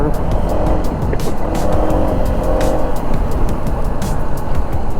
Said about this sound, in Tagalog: Maraming kotse.